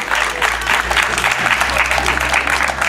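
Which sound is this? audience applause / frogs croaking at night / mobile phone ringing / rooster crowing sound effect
audience applause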